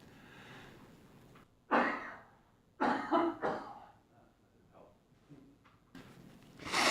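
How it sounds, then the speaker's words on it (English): A few loud, close coughs spaced out over several seconds, with quieter breathy pauses between them and no talking. "Cough again."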